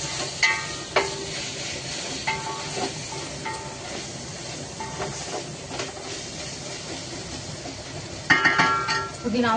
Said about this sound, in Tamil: புதினாவும் அப்படியே ஒரு நிமிஷம் அப்படியே வதங்கட்டும்